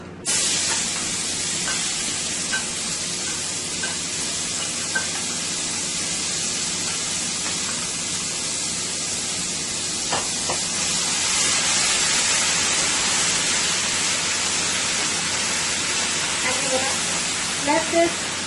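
Chicken mixture hits hot oil for an eggplant curry with eddoes, setting off a loud, steady broadband sizzle that carries through the whole stretch, rising a bit partway, with a few faint clinks near the end and no talk.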